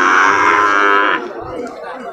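A young calf moos loudly at a livestock market, one long strained bawl lasting about a second, followed by quieter market background noise.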